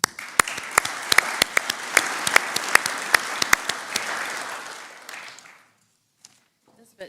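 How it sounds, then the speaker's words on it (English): Audience applause at the Wairarapa sports awards ceremony, dense clapping with sharp individual claps standing out close by, sustained for about five seconds before stopping abruptly, followed by near silence and a faint sound. "and a round of applause."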